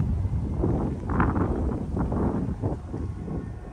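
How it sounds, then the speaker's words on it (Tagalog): Wind blowing outdoors under a cloudy sky makes a steady broadband rush and rumble across the mic, swelling slightly in gusts throughout, with no clear talk. "Ang ganda ng hangin."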